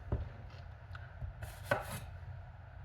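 A knife cuts through a bell pepper in a quiet kitchen, making a few soft, close crunching chops spaced irregularly over a couple of seconds.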